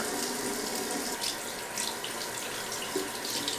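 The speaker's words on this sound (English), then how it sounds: "Rinse the face and neck, gently pat the face dry with a tissue." Tap water runs steadily into a sink while a face is rinsed during a skincare cleanser demo, a continuous hissing splash with small fluctuations and no talking.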